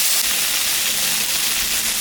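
Water is poured into fried spice paste in a hot pan for a magur fish curry, a loud, steady, close hiss and sizzle that carries on without a break.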